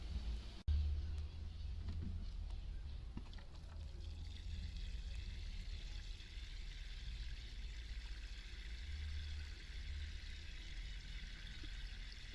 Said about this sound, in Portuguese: Eu vou encher d'água agora para vocês verem como vai ficar.